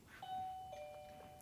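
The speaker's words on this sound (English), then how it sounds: "So I'm going to sound the doorbell." A doorbell chimes indoors, a clear two-tone ding-dong ringing out at moderate volume and fading with a short sustained tail, no voices over it.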